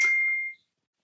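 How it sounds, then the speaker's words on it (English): A single small electronic beep sounds at once, a clear tone that rings briefly and fades out within half a second, followed by near silence. "sorry, there was a little beep."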